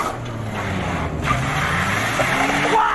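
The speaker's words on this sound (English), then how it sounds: "Got a twerking truck." Rumbling truck engine from a video game, a steady low drone held loud and close throughout with faint higher tonal whines drifting above it.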